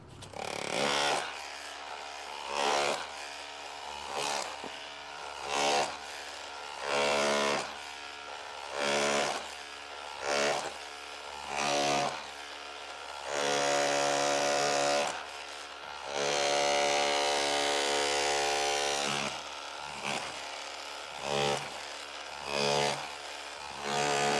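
A power tool hammers in repeated short bursts with pauses between, a rattling mechanical chatter, with one longer run near the end.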